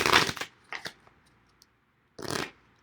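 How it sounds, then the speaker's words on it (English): Two brisk bursts of riffling playing cards, one at the start and another after a quiet pause, close and fairly loud. "I'm shuffling the cards again."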